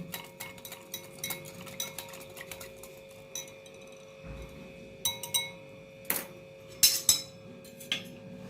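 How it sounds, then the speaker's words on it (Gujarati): A spoon clinks against a glass while sattu lemon sharbat with lemon sharbat masala is stirred, with light irregular taps and clinks at close range, a few louder strikes near the end. "અને આ લીંબુ શરબતનો મસાલો આ નાખી અને બરાબર મિક્સ કરી લઈએ।"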